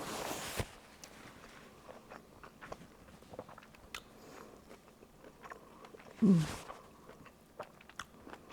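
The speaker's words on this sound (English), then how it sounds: "I'll try to get a little bit of noodles and take a bite of a shrimp." Close, soft chewing of garlic shrimp pasta with noodles, including a bite of shrimp, and faint irregular mouth sounds with one louder crunch near the end. No one talks.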